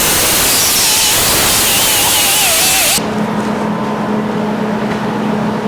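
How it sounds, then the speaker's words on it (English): Power tool grinding metal bracket ends clean before welding, part of a fan-to-radiator mount for a 1949 Chevrolet gasser; loud, harsh, steady whirring abrasion for about three seconds, then a quieter lingering hum. "So the next step is we're going to clean up the ends here and get ready for welding."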